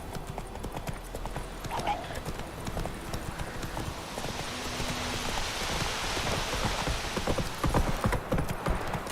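Roach, a horse in The Witcher 3, gallops with a quick, continuous clatter of hooves over a rain-like hiss, the hoofbeats steady and close throughout.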